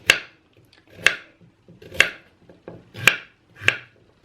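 A knife roughly chops washed carrots on a board, five sharp, close thuds spaced about a second apart over quiet background.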